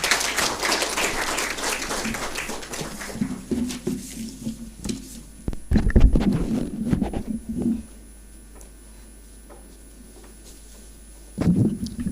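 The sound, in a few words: audience applause welcoming a speaker on stage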